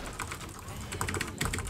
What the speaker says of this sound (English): As you heard me completely mash on my keyboard.